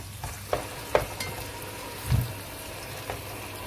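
Frozen courgettes and carrots cook gently in a pan with a soft, steady sizzle, broken by a few quiet knocks and stirring clatters from close by.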